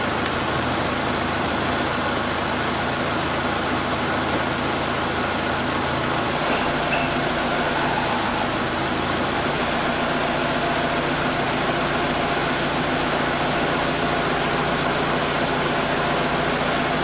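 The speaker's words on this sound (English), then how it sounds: "So I'm going to put this in gear and let the wheels spin." A 2002 Dodge Neon with an A604 (41TE) automatic transmission runs in gear with its wheels spinning freely, giving a steady, close engine drone and mechanical hum that holds unbroken throughout.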